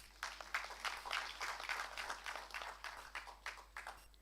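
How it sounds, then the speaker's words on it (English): Audience applause during the inaugural session of an international conference, a faint, uneven scattering of claps that rises and dips in soft bursts. "let us celebrate this significant milestone with again a round of applause"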